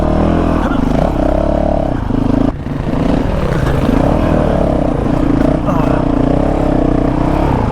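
A two-stroke dirt bike rides over loose rock on a desert dual sport trail, its engine buzzing steadily with brief throttle dips, amid clattering and wind noise up close.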